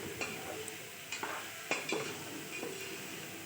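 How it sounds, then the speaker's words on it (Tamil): Bottle gourd sautéing in a pan, a quiet steady sizzle broken by a few scraping strokes of a spatula at irregular intervals, with no one talking. "வதக்கிட்டு சுரக்காய் சேர்த்துக்கலாம். சுரக்காய் நல்லா வதங்கிட்டு"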